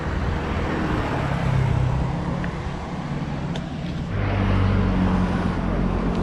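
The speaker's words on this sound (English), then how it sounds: "a compensating truck all the way out in eastern Taiwan" A big truck rumbles past on a road in Yilan, eastern Taiwan, its deep engine drone and tyre noise loud and close, rising and easing over several seconds amid general traffic hum.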